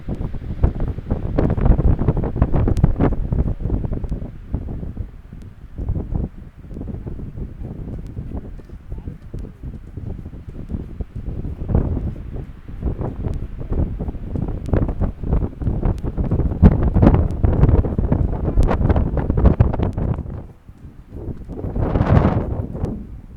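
Strong wind gusting across the microphone at a riverside viewpoint with boats below, a continuous loud rumbling buffet that swells and dips, with someone talking over it throughout.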